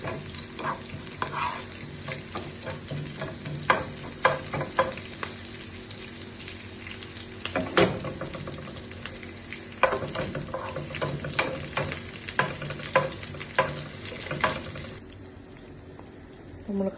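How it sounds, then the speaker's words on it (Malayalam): Mustard seeds crackle and pop in hot oil while being tempered for a Kerala-style dry fish curry. Close, busy sizzling is broken by sharp scattered pops and a few stirring scrapes, and it fades slightly toward the end. "നമ്മൾ കടുക് എല്ലാം താളിച്ചിട്ടു."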